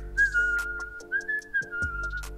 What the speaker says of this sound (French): Je suis encore une vieille personne qui siffle quand il s'amuse.